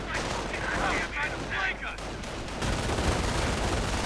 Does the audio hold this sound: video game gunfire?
yes